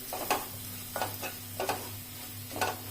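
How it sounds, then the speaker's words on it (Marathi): Half a spoon of turmeric with spices stirred in a pan over a low flame for chicken sukka: four distinct scraping strokes at an even rhythm over a faint, constant background sizzle. "इथे अर्धा चमचा हळद घालायची आहे आणि व्यवस्थित आपल्याला मिक्स करून घ्यायचं आहे"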